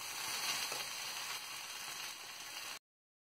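Okra for coconut bhindi fries and is stirred in a pan, a constant bright hissing sizzle heard close up that cuts off abruptly before the end.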